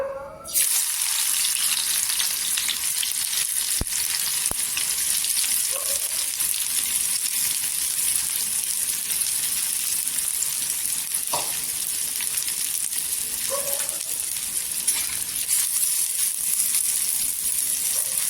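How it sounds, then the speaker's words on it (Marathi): Steady, loud sizzling hiss of onions frying in hot oil on a griddle over a gas flame, continuous throughout, with a few faint clinks and no talking. "तवा ठेवलेला आहे गॅसवर त्याच्यामध्ये तेल टाकलेलं आहे"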